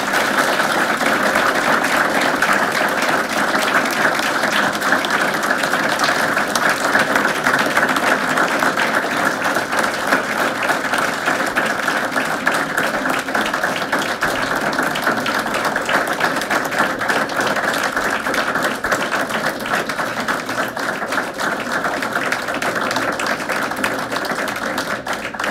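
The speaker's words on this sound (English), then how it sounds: "Let's give her a round of applause" Sustained audience applause at a county board of education meeting, dense steady clapping from many hands filling the room for the full stretch without letup.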